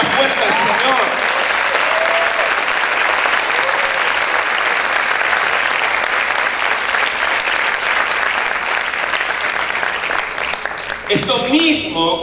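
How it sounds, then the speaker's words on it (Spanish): Loud, continuous applause fills a church congregation for the Lord, a steady wash of many hands clapping with faint voices and cheers woven in, ending with a brief burst of speech. "¿Cuántos pueden aplaudir más fuerte al Señor?"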